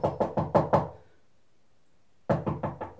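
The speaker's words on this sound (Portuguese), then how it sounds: "ela escutou uma batida na porta" Knocking on a wooden door: a quick burst of five sharp knocks, a pause of about a second and a half, then another five, loud and close with no talk.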